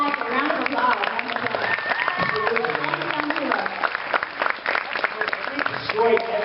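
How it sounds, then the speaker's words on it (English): A comic con crowd at a Power Rangers Q&A panel applauds, with dense clapping and cheering under people talking, steady and moderately loud throughout. "Round of applause."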